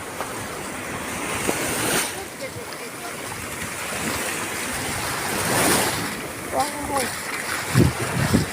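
Sea waves wash steadily up a beach in Italy in midsummer, surging under the beach loungers, with broad hissing surf and wind buffeting the microphone throughout.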